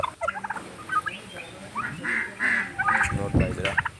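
Turkeys gobble repeatedly on a farmhouse property, a close, loud flock of rapid rattling calls and honks overlapping one another, with little talk.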